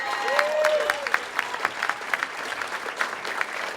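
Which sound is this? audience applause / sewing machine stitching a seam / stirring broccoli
audience applause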